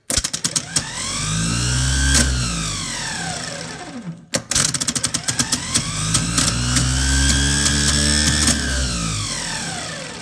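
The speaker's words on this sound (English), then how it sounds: "Now for a look at the actual motor engaging." A car starter motor on a bench test spins up with a loud whirring whine and rattling pinion clatter. It runs twice, each time rising and then falling in pitch, with a brief cutoff between runs.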